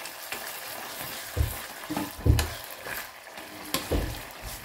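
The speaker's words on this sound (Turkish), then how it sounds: "Salça kızardı şöyle." Tomato paste sizzles and fries steadily in a hot pan with a pinch of salt, a continuous close crackle with a few louder scraping bursts from stirring, and no voices.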